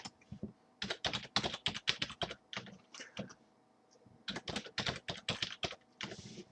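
Keys clatter on a computer keyboard in two quick bursts of typing, crisp and close, as an email address and password are entered, with a short pause between runs.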